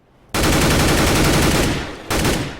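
Automatic gunfire from a rifle in Counter-Strike on the Dust 2 map, a loud sustained burst of rapid shots lasting over a second, a short pause, then a second brief burst, close and alone.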